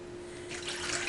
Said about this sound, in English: Add warm water, so 2 cups of warm water